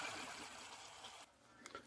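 Cooked chow mein noodles being drained of their cooking water through a strainer, a close, steady splashing trickle that cuts off abruptly partway through, leaving a quieter drip with a few faint clinks.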